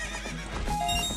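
Epona, the horse from the video game Zelda Ocarina of Time, gives a short, bright neigh over a few hoof clops and background game music.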